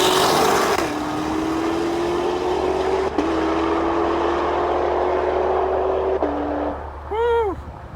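A car accelerates hard from a 40 mph rolling start in second gear during a roll race. The engine drones loud and close, climbing steadily in pitch and dropping briefly at each shift, then fades at the end.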